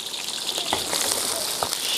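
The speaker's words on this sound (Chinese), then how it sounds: "锅里面放宽油，油温七成在放鱼" Pieces of grass carp deep-fry in a wok of plenty of hot oil, producing a steady bright sizzling hiss with a few louder crackles and pops breaking through.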